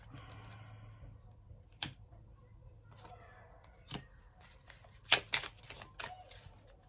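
A deck of tarot cards is shuffled quietly up close, producing soft papery riffles and several sharper flicks and snaps, with faint room tone behind.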